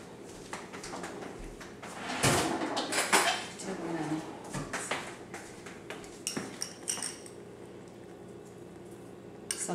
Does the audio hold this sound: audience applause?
no